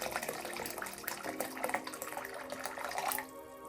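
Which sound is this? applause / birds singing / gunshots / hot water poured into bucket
hot water poured into bucket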